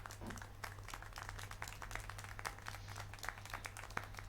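Faint, rapid clapping by a character in the video game Syberia: The World Before, a thin scatter of hand claps over a low steady hum of game ambience.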